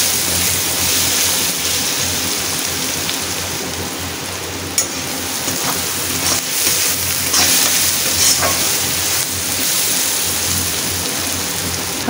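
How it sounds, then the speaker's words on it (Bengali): Onions frying to light brown in a pan for a Padma river kakila fish chachhari, a loud, steady hiss of oil with occasional stirring knocks and clinks. "পেঁয়াজটাকে হালকা ব্রাউন কালার করে ভেজে নেব"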